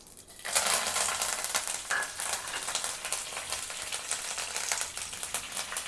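Curry leaves hitting hot oil with already-popped mustard seeds for a fenugreek-leaf poriyal, bursting into a loud, dense crackling sizzle that stays steady and close throughout, with no talk.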